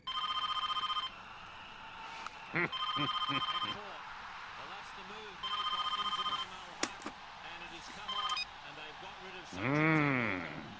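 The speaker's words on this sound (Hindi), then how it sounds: "It is ringing. I can hear it." A telephone on speakerphone rings out after a redial, with repeated electronic ring bursts separated by pauses, and voices and other noises fall between the rings.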